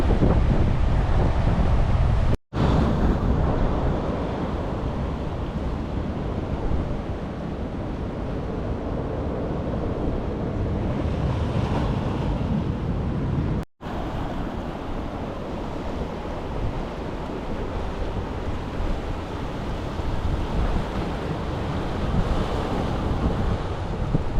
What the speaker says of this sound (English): The ocean is a little bit aggressive